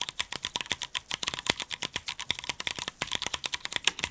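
Fast, crisp clacking of keys on a mechanical keyboard with a metal bottom case, a quick, even stream of light keystrokes up close with no talking.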